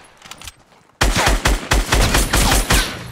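Sniper rifle fire in Fortnite: after a quiet opening, a loud burst of sharp shots cracks out in quick succession, several close reports over a few seconds.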